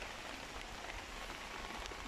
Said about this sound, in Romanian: S-a pus și ploaia